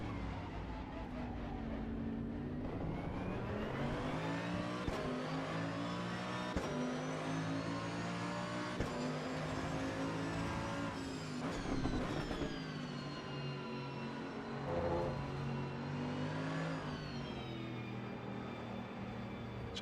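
Race car engine lapping the Nordschleife in Assetto Corsa Evo, a sustained revving drone that rises and falls through gear changes, steady and prominent throughout.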